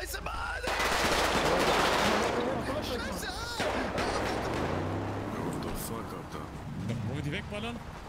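Video game gunfire during a street-race session, bursts of rapid automatic shots and crackling fire mixed with engine and game noise, with people talking over it.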